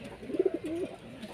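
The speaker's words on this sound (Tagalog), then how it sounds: "So, dito mga kalapatids, ito si Bubbles" Pigeons cooing close by in a quiet spot, a short burst of soft, low throaty coos in quick succession followed by a longer warbling coo.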